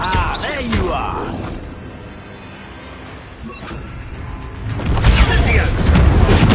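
A Confringo blasting spell explodes in a Harry Potter video game, a booming blast swelling near the end after quieter rumbling, with a voice heard early on.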